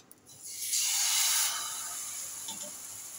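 Rava dosa batter hits a hot oiled frying pan with a loud, steady hiss that swells quickly, holds for about a second, then eases into a softer continuous sizzle with faint pops.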